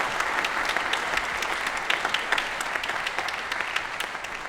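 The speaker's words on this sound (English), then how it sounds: "So big round of applause for him and the entire administration team." Parents, grandparents and alumni at a high school concert band winter concert give a steady round of applause for the principal and administration team, continuous and fairly even, heard from within the crowd.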